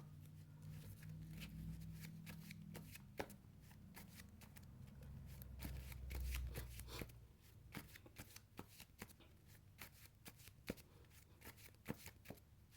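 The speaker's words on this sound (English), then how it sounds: "Yeah, I'm shuffling the deck." A deck of Yu-Gi-Oh cards being shuffled repeatedly, sharp riffling bursts and clicks over a low rumbling background, fairly close.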